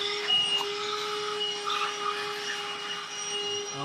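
A Black & Decker Dustbuster Pivot handheld car vacuum cleaner runs steadily with a constant high motor whine and airflow hiss, close and fairly loud, with no talking.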